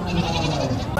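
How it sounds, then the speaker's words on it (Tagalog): A large goat at a livestock market bleats in one sustained, loud, close call filling the whole brief moment. "Kalaking kambing."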